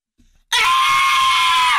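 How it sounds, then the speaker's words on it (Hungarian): A radio host lets out a sudden, very loud, sustained shrill scream after a brief faint vocal sound, the piercing cry holding steady for over a second in a studio. "Sikítani fogok."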